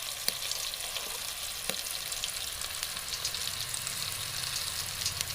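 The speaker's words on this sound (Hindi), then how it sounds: "अब इसके अंदर स्पाइसेस डालेंगे।" Spices sizzle and fry in a tomato and crushed garlic masala for a brinjal dish, a steady close crackling hiss with faint stirring scrapes and no talk.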